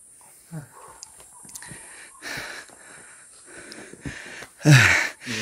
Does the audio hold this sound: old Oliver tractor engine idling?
no